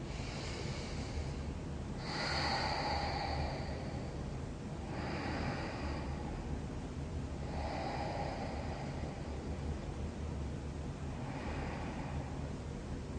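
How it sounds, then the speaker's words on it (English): Slow lateral diaphragm breathing during a core exercise session, four soft breath sounds spaced a few seconds apart, each a gentle airy rush over a steady low background hum, with no talking. "So let's do 3 more lateral breaths."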